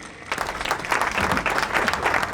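Audience applause swells at a minister's public event honoring a woman legislator, steady dense clapping sustained for a couple of seconds at moderate loudness.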